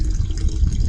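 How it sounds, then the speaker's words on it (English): A hall bathroom toilet flushes during a flow test, producing a loud, close rush and gurgle of water that continues throughout with no talk. "Flush number 12 is my last flush on the hall bath toilet"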